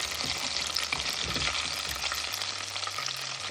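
Jamaican fried chicken fries in hot oil, a dense, steady crackling sizzle up close with faint stirring, no talking.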